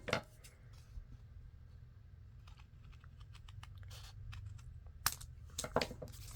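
Scissors cut through paper for a fall-themed accordion fold tag album, producing quiet, close snips and crisp scrapes in irregular bursts, with a few sharper clicks toward the end.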